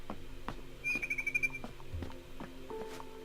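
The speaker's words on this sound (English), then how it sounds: "Then I heard chirping outside my window." A barn swallow chirps in What Remains of Edith Finch, a short high twittering run of quick notes over quiet ambient game sounds and soft clicks.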